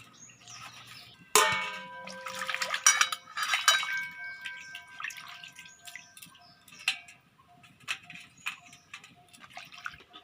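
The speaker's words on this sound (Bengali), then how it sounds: "এবারে মাছগুলো আমি ধুয়ে নেব" Prawns are washed in water in a village kitchen, with a sharp metallic clang followed by repeated clinks of a metal bowl, splashes and drips, near and fairly quiet.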